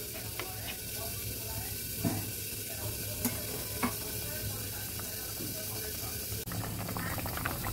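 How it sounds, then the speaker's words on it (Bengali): Koi fish curry broth with potatoes bubbles in a pot, a steady low hiss and simmer throughout, with occasional small clicks and taps near the pan. "ঝোলটা ফুটে উঠেছে"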